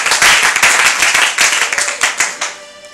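Applause breaks out at a church service in acclaim of Jesus, a burst of close, dense hand clapping that stays strong before thinning and fading over three seconds.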